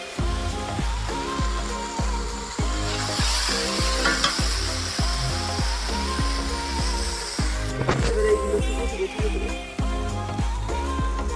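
Food fries in a pan with a constant sizzle while a spatula stirs it, producing regular, close knocks and scrapes about twice a second, and there are no voices.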